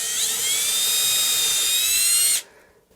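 A high-pitched power drill whines steadily for about two seconds as it bores a pilot hole for screws in an electric guitar body during a Telecaster build, then cuts off abruptly.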